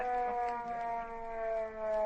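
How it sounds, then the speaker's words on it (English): A steady, droning siren in an old-time radio drama wails with layered tones that sustain and waver slightly in loudness, heard alone at a moderate distance. "That's a siren."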